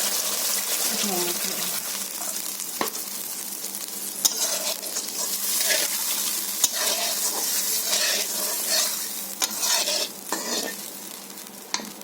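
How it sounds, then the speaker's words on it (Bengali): Water poured into oil-released fried spice masala in a pan for a ridge gourd fish curry, a loud burst of hissing sizzle with stirring scrapes and bubbling, a voice faintly present underneath. "মশলাটা কষা হয়ে গেছে এবং তেল ছেড়ে দিয়েছে, তো আমি এখন জল দিয়ে দিচ্ছি"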